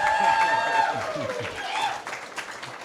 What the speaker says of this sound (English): I noted everyone who clapped and who didn't